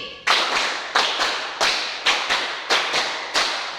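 A class claps a five-beat ice-breaker pattern twice through in unison, about ten sharp, echoing claps in a steady repeating rhythm with short gaps between groups.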